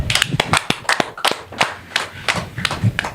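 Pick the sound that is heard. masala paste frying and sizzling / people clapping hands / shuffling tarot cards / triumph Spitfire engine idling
people clapping hands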